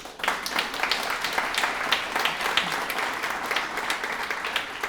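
Crowd applause at the grand opening of Renewal Village, a housing development with units for veterans, with steady, brisk clapping from many hands at moderate distance, unbroken for several seconds.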